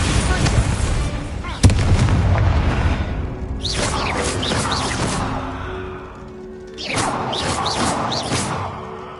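Bombarda spell explosions in Hogwarts Legacy on PS5: a sharp blast followed by booming, crackling bursts and whooshes, with a second wave of blasts later, loud and close.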